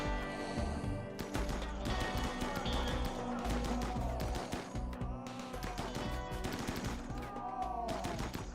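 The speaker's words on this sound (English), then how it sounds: "Those turrets have actually done such good work for us." Defensive turrets firing in the colony-survival game RimWorld, with dense bursts of rapid gunfire packed into near-continuous volleys, loud and busy across the whole stretch alongside other game sounds.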